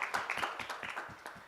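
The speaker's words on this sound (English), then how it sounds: "Can we have a round of applause for Zahra from Sit, Jump, Play?" Applause at an afternoon regional pitch competition for women entrepreneurs: a short burst of many hands clapping, dense and fairly close, with no talking over it.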